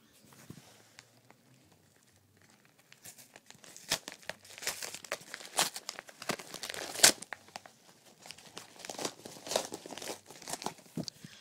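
Paper or plastic packaging being torn open and crinkled by hand, close up; quiet at first, then a dense stretch of tearing and crumpling rustles of uneven loudness, with no speech.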